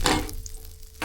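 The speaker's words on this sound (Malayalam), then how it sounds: "ഇതാണ് നമ്മൾ ബ്രെഡ് പൊരിക്കുക" Egg-coated bread frying in a pan gives a brief, close, steady sizzle with a sharper burst of crackling at the start.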